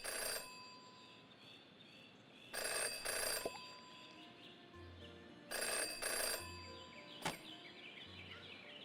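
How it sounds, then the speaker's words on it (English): An old-fashioned telephone rings in the Jenny LeClue detective game, two long bursts of bright electric bell ringing separated by a pause, over a quiet ambient music bed with low tones and a single sharp chime. "Jenny had learned never to ignore a ringing phone"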